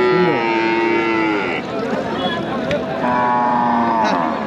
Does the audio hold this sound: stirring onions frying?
no